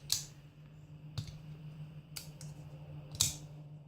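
Folding knife snapping open against a strong detent, giving four sharp, crisp clacks spaced about a second apart, close and clear over a low steady hum.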